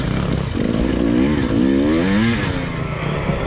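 An enduro dirt bike engine revs hard during a 2019 Corduroy Enduro ride, loud and close, its pitch climbing and dropping as the throttle opens and eases off.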